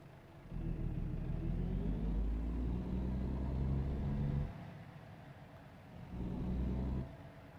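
A deep, rumbling truck engine in the video game American Truck Simulator idles and revs up, dropping back briefly before surging again, steady and close with no voices.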